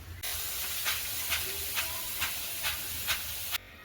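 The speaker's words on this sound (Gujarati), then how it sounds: "આ રીતે આપણે બધી જ ભૂંગળીને પણ તળી લઈશું" Bhungli, puffed fried snack tubes made for a Gujarati puffed-rice chevdo, frying in hot oil, giving a steady close hiss with soft periodic bubbling surges roughly every half second, heard alone.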